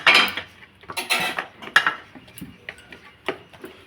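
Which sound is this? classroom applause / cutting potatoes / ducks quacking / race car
cutting potatoes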